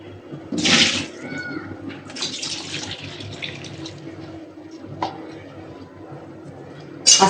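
Lukewarm water, mixed from hot and cold with salt added for pitha dough, pours in a splashing gush at the start, then a softer trickle and splashes, with occasional clinks and a final louder splash.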